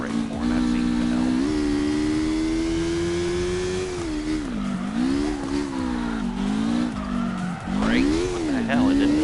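A car drifting in CarX Drift Racing Online, with a loud, sustained engine drone and long, wavering tire screeches as the revs rise and fall, heard up close over the whole stretch with no voice.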